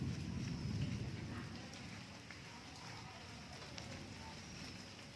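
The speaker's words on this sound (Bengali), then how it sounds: "আজকে প্রচন্ড পরিমাণে বৃষ্টি হচ্ছে সারা দিন।" Heavy rain falls on a garden, heard from under a sheltering roof as a faint, steady hiss that swells slightly at first and then stays even.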